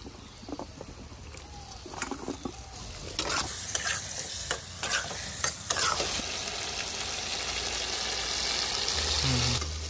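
Chicken legs are stir-fried with spices and yogurt in a pan, a close sizzle with repeated scraping and stirring strokes, then a steadier, louder fry toward the end.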